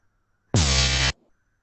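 A single sustained synthesizer note from Omnisphere in Ableton Live, about half a second long, with a bright buzzy harmonic tone that starts and stops abruptly, alone in otherwise near-silence.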